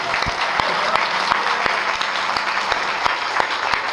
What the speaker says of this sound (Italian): Un applauso per i sardi che vanno avanti